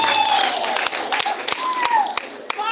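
Scattered, loose hand claps from a small gathering mark a primary school's exam result. Individual claps land every fraction of a second beneath an ongoing voice and steady background noise.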